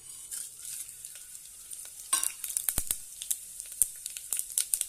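Whole spices for veg pulao, black pepper, cumin, bay leaf, cinnamon, cardamom and cloves, sizzle softly in hot oil in a pan, with faint crackles and sharper pops and stirring scrapes growing busier partway through.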